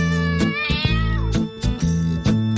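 A cat meows and yowls in long, drawn-out cries over loud music with a steady beat, several meows following one another across the stretch.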